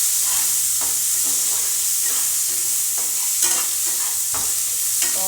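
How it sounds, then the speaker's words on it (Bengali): Meat frying and being stirred in a wok for chicken biryani, with a steady loud sizzle and repeated scraping strokes throughout, no voices. "এখন আমি মাংসটা বসাচ্ছি।"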